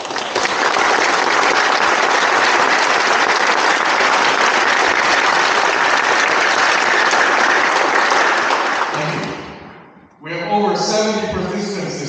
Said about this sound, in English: You could give them a quick round of applause.